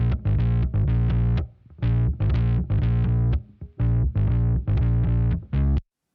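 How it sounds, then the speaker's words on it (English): Distorted bass guitar run through effect plugins plays a chunky riff in short choppy bursts with brief gaps, loud, thick and gritty, with no talk. "nice distorted bass, and there are a few plugins on it"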